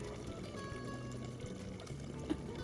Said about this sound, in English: Let's fill the pot with filtered water halfway